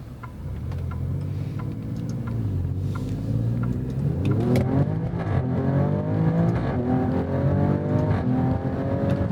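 A 2024 Alfa Romeo Stelvio Quadrifoglio engine pulls hard under acceleration, rising in pitch with quick gear shifts and then climbing again. The engine stays loud and steady throughout, heard from inside the car with no talking.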